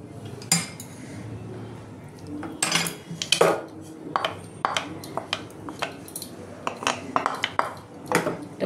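A metal utensil clinks repeatedly against a pan while papaya paste is stirred into milk. The sharp, bright taps come in irregular clusters over a soft background, close and fairly quiet.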